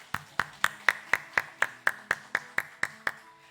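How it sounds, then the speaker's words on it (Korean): A congregation at a Sunday morning church service claps to welcome newcomers, with about fourteen crisp claps in a quick, even rhythm, close and clear with nothing else over them. "환영의 박수를 나눕니다."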